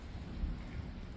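Steady rain and a low rumble of thunder during a thunderstorm fill the short stretch, a continuous soft hiss over distant bass rumble with no talking.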